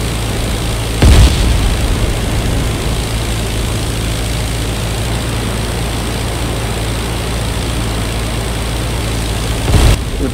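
Two loud explosions, one early and one near the end, punch through the constant drone of a propeller engine in a WWI air combat flight game with an Albatros D.Va and S.E.5a. The engine noise stays steady in between.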